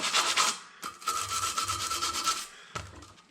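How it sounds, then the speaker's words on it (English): A Scag vacuum shaft is scuffed with sandpaper: close, raspy back-and-forth rubbing strokes in several bursts, with brief pauses between them. "Gonna sand this up just a little bit, scuff it up."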